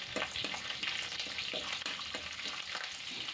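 Curry leaves and cumin seeds sizzle in hot oil for a Gujarati guava curry, a dense crackling hiss with rhythmic bursts of spitting and popping, close and steady with no talk.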